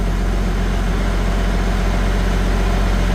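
A Farmall 400 tractor engine runs close by at a steady, loud, deep rumble with a constant even throb and no variation in pace.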